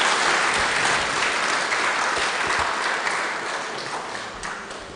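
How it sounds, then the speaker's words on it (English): A roomful of people gives the commissioners at a public inquiry hearing a big round of applause, dense continuous clapping that slowly tapers toward the end. "A big, big, big round of applause for our commissioners."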